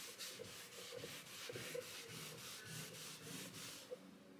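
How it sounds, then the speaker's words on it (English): A cloth wiped with nail varnish remover over a cheap cupboard surface gives a steady rhythmic rubbing, about ten back-and-forth strokes in a row, close and moderately loud, with no voices. "I'm now just going to wipe over some nail varnish remover"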